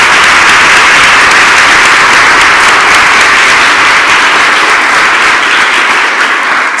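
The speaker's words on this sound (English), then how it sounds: "And again, one more round of applause." Loud, sustained applause from an audience at an event celebrating institutions and communities, a thick, even wash of clapping that carries on without a break and tapers slightly near the end.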